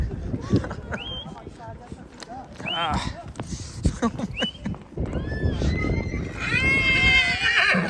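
Horses neigh and whinny during a trail ride in Baisaran valley, Pahalgam, Kashmir, with clip-clop of hooves and nearby voices; a loud, long whinny rises near the end.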